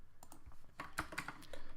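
Typing on a computer keyboard during a Java programming session, a brief burst of irregular key clicks at close range with no voices.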